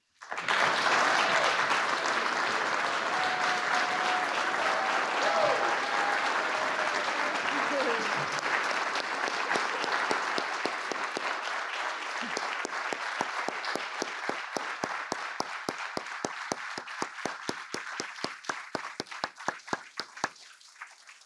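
Sustained audience applause for the introduction of the First Lady at a coalition event honoring military children, a loud dense ovation that gradually thins into distinct individual claps near the end, with a voice briefly heard early on.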